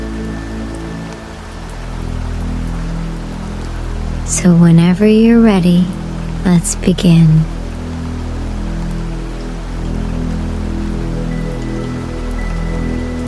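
Soft steady rain falls on a forest at night, a continuous gentle patter that carries through the whole stretch, with a calm voice speaking briefly over it partway through.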